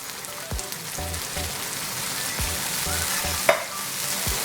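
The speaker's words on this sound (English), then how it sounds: "So I've actually used a full can of coconut milk with the masala and going in here." Coconut milk poured into a sizzling spiced masala for a spicy Goan prawn curry, giving a steady hiss and frying crackle with periodic low stirring scrapes and a single sharper clink near the end, close and alone.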